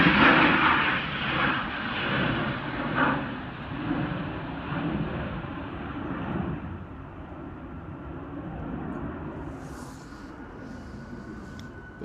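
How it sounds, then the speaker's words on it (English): Jet2 aircraft engine under test at Manchester Airport, a loud roaring rumble that slowly fades and settles into a steadier distant whine over windy outdoor air. "Bit of engine testing going on there."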